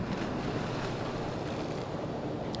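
Rough sea surf rolls steadily along the west end of Dauphin Island shore, a continuous loud wash of breaking waves mixed with wind noise buffeting the microphone, with no talk.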